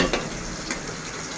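Frog meat stir-fried in oil with coarse curry paste makes a loud, close, continuous sizzle with a few scraping stirs, lasting only a moment.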